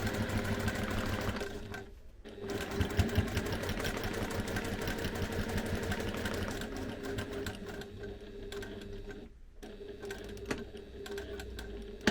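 Sewing machine stitching up the middle of a fabric pocket on a case flap, a close, rapid mechanical whirr and chatter, stopping briefly twice before resuming.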